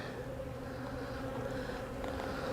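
Agitated honeybees from disturbed hives, just given honey supers, fill the air with a continuous close buzzing drone that stays level and dense throughout.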